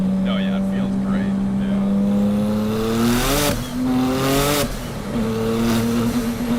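A 1000whp Porsche Turbo engine pulls hard under full throttle, a loud, steady rising drone that climbs in pitch, dips briefly at two gear changes, then climbs again, heard up close from inside the car.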